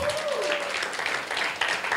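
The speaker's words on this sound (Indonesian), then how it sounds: "Tepuk tangan buat Tuhan." A church congregation at a midweek fellowship service breaks into applause, a broad crowd clapping that sounds fairly close, while a voice carries on underneath and a faint tone slides through at the start.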